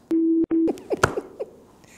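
A phone rings nearby, two short steady electronic tones in quick succession, followed by faint scattered clicks and rustling.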